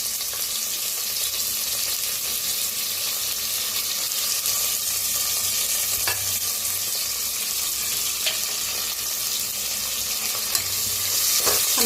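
Onion and curry leaves fry in a hot pan with a steady, loud sizzle, broken by occasional scraping stirs of a spoon, with no voices.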